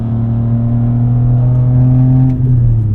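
An E46 BMW M3's engine drones steadily from inside the car while driving, a low sustained hum with a slight rise in pitch, loud and continuous.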